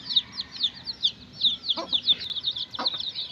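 A young chick chirps and clucks in quick, repeated high peeps at close range, with a couple of soft pecking taps among the calls.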